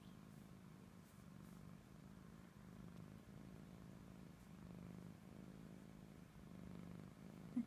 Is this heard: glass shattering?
no